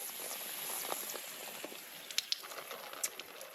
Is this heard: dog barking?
no